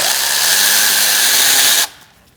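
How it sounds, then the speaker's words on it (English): Power tool running with an E10 socket to remove a bolt on a 2008-2014 Mercedes-Benz C300 3.0L V6 during knock sensor replacement, a loud steady whine with rising pitch that cuts off abruptly near the end. "Using an E10, we're going to remove this bolt."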